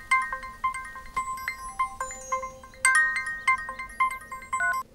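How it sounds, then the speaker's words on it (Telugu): A phone ringtone for an incoming call plays loud and up close: a bright electronic melody of quick repeating tonal notes that runs the whole time with no talking over it. "అరే వదిన ఫోన్ చేస్తుంది"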